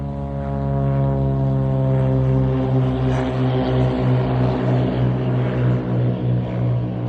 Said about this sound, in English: That was loud. That's a Cirrus, right?